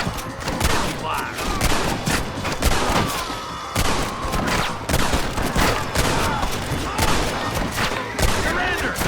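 A dense, continuous burst of rapid gunfire fills a shootout in Red Dead Redemption on Xbox 360, with loud overlapping shots and booms and shouting voices mixed in.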